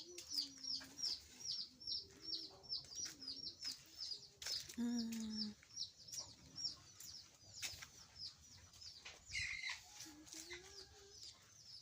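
Chickens cluck again and again through the clip, with a few bird chirps and occasional faint voices in the background of an outdoor setting.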